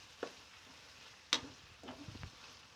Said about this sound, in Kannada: ಗೋಲ್ಡನ್ ಬ್ರೋ ಬರೋ ತನಕ ಫ್ರೈ ಆಗಲಿ ಆನಂತರ ಟೊಮೊಟೊ ಸಾಸು ಚಿಲ್ಲಿ ಸಾಸು ಎಲ್ಲ ಆ್ಯಡ್ ಮಾಡಿ ಫ್ರೈ ಆಗಲಿ